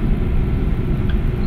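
Steady low engine drone and traffic rumble from a truck in Euro Truck Simulator 2 driving a MAZ into Ukraine, loud and continuous with no talk.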